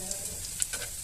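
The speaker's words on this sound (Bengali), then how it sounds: "দেখেন আমি এখানে ভাজি করতেছি, চিংড়ি মাছ দিয়ে আলু দিয়ে ভাজি করতেছি" Shrimp and potatoes frying in a pan make a soft, steady sizzle with small crackles and pops, heard close but fairly quiet.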